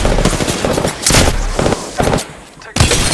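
Rapid gunfire bursts from weapons in the Apex Legends battle royale game, with Wraith playing, loud and close in choppy repeated volleys, a brief lull, then another burst.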